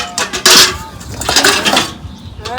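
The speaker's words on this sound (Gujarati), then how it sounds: "જો વાસણનું થોડું થોડું કામ ચાલુ છે." Steel utensils and pots clink and clatter sharply as they are washed at home, in quick irregular knocks close to the listener.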